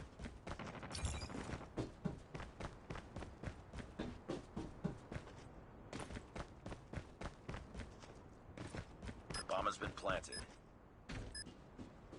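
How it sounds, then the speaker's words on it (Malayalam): In a Call of Duty Mobile Search and Destroy match, game gunfire crackles in quick bursts and rapid single shots across the whole stretch, fairly faint overall, with voices talking between the shots. "ഞാൻ വെടി വെച്ചിട്ട് കൊള്ളുന്നില്ലല്ലോ"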